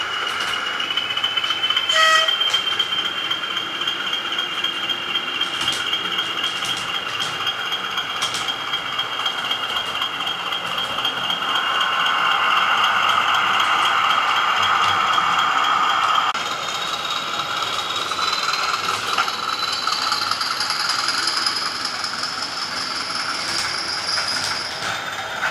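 A Bachmann Class 20 model locomotive runs with a steady electric whine and motor hum, then slows as its auto brakes engage, the tone shifting midway; close and fairly loud with no speech.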